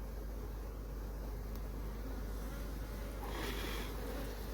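Honeybees drone steadily on a hive frame during a varroa sample check, a close, continuous buzz over low hum, swelling a little louder near the end.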